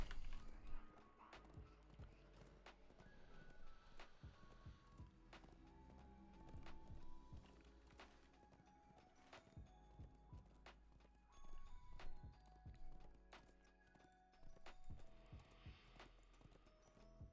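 War steed hooves clop in The Lord of the Rings Online, a quiet, rhythmic run of horse footfalls continuing throughout with scattered game sounds and faint effects around them.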